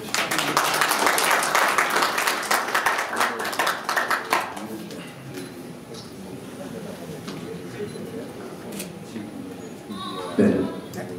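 An audience at a Korean Peaceful Unification Advisory Council Atlanta chapter ceremony gives a burst of dense applause that fades after a few seconds, followed by a speaking voice over quiet room noise.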